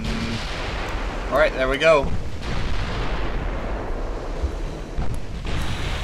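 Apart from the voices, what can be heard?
naval artillery broadside firing in the video game Ultimate Admiral Dreadnoughts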